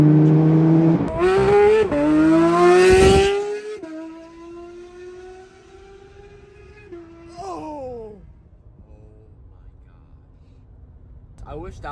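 Porsche GT3 RS engine revving hard through rising gears, exhaust loud, then settling into a lower rumble as it pulls away and fades, with a brief burble near the end.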